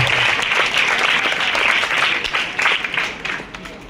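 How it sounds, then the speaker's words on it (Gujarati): A crowd of students and guests at a school ceremony applauds the teachers, dense sustained clapping at close range that fades toward the end. "એમના માટે જોરદાર તાળી. જોરદાર તાળીથી પાછળ તાળી આપણી 3 પડવી જોઈએ."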